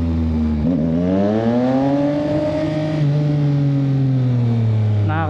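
A Suzuki Hayabusa 1340cc motorcycle accelerates hard on an open road, its loud, close engine note rising and holding steady before climbing again near the end.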